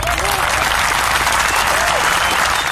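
Steady, loud applause from a small group greets guests on a dad-hosted podcast, continuous clapping with a few cheers mixed in.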